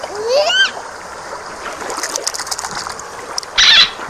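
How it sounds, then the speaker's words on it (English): A brief splash as a toy dolphin is dropped back into water during a children's sea-animal play session, a short bright burst near the end after a child-like voice and a whistle-like chirp. "Let's put the dolphin back in the water."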